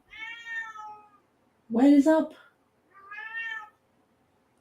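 A cat gives two clear, drawn-out meows, about two seconds apart, close and moderately loud, with a person's brief spoken question between them.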